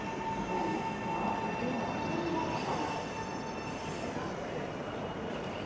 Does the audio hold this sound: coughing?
no